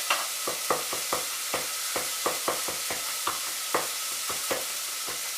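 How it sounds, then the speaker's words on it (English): Garlic cooking down in a pan for carrot and coriander soup, with a steady hiss under repeated sharp clinks and scrapes of a utensil stirring at a quick, uneven rhythm. "Just cooking this garlic down"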